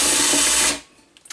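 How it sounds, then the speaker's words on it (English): Power drill whirring loudly for a brief moment, then cutting out abruptly, followed by a few faint clicks and knocks in near silence. "So I'm going to drill a hole"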